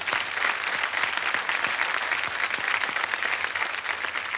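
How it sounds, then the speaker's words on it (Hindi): Studio audience on a quiz show breaks into sustained, even applause, a dense wash of many hands clapping at moderate volume with no voices over it. "बहुत बहुत बधाई और तालियां इनके लिए।"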